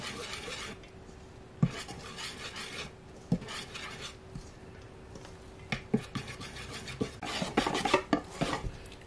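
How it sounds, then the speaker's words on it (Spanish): Banana pancake batter being whisked in a bowl, with scraping and tapping against the sides and sharp clinks of the utensil on the rim, steady and close, growing busier toward the end. "Mezclamos perfectamente, que no nos quede nada de grumos."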